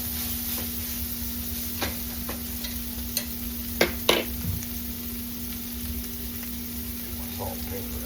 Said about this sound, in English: I like to get that old sausage broke up pretty good. Get it all browned up there.